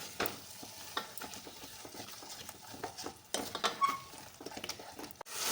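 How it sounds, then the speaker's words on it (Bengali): Potatoes fry with spices, green chillies and salt for an egg pulao while being stirred, soft scraping and light clinks of a spoon against the pan over a quiet, close sizzle. "এবার মশলার সঙ্গে আলুটাকে বেশ ভালো করে কষিয়ে নিতে হবে।"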